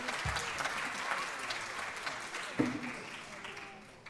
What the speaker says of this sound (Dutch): Applaus voor uzelf.